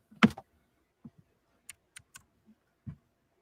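Computer keys tapped in a few sparse, separate clicks, with one louder burst at the start and then light scattered presses, close and quiet with no talking.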